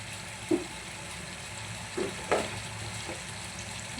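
Bottle gourd chicken curry being stirred in a pot, a few soft scraping and clinking strokes over a faint sizzle and simmer, moderately close, with no talking.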